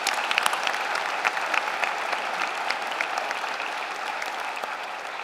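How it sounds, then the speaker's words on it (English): Big round of applause for students at a university honors convocation, a sustained, even roar of many hands clapping across a large hall. "Let's give them all a big round of applause."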